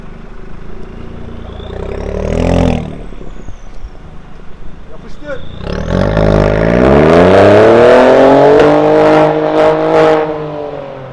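A BMW F44 2 Series Gran Coupe with a valved aftermarket exhaust revs up loudly from close by, its pitch climbing steadily, after a shorter rev earlier and a quieter idle in between.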